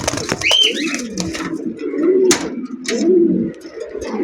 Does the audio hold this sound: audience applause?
no